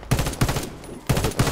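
Two loud, close bursts of rapid gunfire from the online shooter Warface, with a short gap between them and no talk over them.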